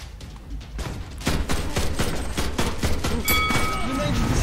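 A grenade blast in the Cuisine Royale shooter game lands amid a dense, loud burst of gunfire and impacts that continues steadily after the first heavy boom.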